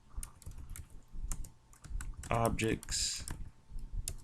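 Keys clatter on a computer keyboard in quick, irregular taps, then a short burst of rapid typing, while a voice speaks over part of it.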